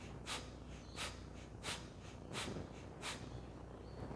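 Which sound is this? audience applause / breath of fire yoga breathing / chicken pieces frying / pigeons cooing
breath of fire yoga breathing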